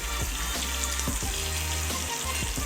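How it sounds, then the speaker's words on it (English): False trevally fish shallow frying in a pan gives a steady, close sizzle and crackle of hot oil, with a few soft knocks from handling in the pan. "So this is the shallow fry."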